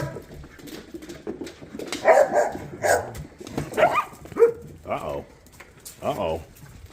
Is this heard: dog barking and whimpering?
yes